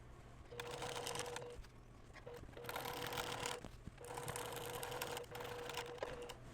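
A sewing machine with a walking foot quilts through a quilt sandwich, running in three steady whirring, rapidly stitching bursts separated by brief pauses, close and moderately quiet.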